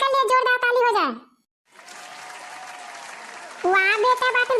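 An audience claps in a sustained burst for a child's dance at a Children's Day event, the applause set between stretches of someone talking loudly into a microphone.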